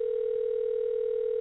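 A steady telephone dial tone hums continuously and evenly at moderate level, with no other sound over it.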